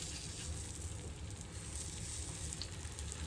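Birria tacos frying in butter in a pan, a steady close sizzle and crackle of hot fat running throughout at low level, with no talking.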